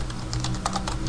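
Typing on a computer keyboard, a steady run of light, quick clicks close by with an even rhythm and no speech.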